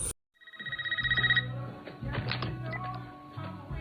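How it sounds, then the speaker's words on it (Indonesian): A home telephone rings in the 2022 horror film Scream, a pulsing electronic trill that repeats rapidly for about a second. Quieter tonal film score and scattered knocks and thuds follow it. "Telepon kembali berdering"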